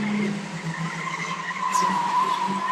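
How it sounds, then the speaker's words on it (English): Stock car tyres screech during an oval race, a sustained squeal over steady engine roar that stays loud throughout. "It's 24, Lee Jordan, screeching the tyres from 188, Ashley Harrison."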